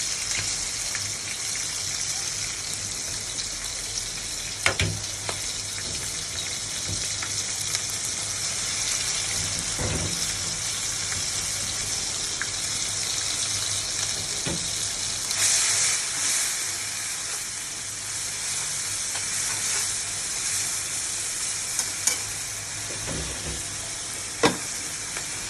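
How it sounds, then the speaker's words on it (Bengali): Spice pastes of turmeric, salt and chili powder sizzle with onions in a hot pan, a loud and steady frying hiss that lasts throughout, broken by a few faint clinks of stirring, with no voices. "এবার আমি পেঁয়াজের ভিতরে মশলাগুলো দিয়ে দেবো।"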